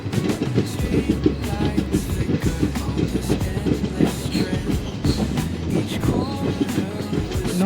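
A DEMU diesel multiple-unit train travelling from Dandeli to Alnavar, heard from inside as a steady low rumble with rhythmic wheel clatter over the rails, loud and continuous throughout.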